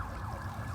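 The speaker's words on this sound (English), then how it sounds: "nice silent sirens here in Hollywood" A faint, distant emergency siren wails along Sunset Boulevard in Hollywood, a brief steady tone heard under low city hum.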